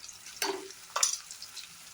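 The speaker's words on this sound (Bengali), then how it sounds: "পেঁয়াজটা আমার ভাজা ভাজা হয়ে এসছে" Onions fry in a pan while ghugni is cooked, with two short bursts of sizzling and stirring, the first near half a second and the second about a second in, against quiet background hiss.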